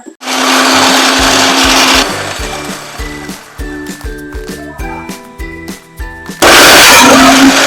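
A kitchen mixer grinder whirs loudly as it grinds ginger, garlic, green chilli, coriander and curry leaves into paste. Two strong bursts are separated by a stretch of clinks and knocks from the jar.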